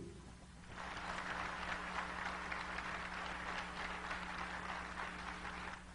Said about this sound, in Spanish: ¿De dónde surgieron los aplausos?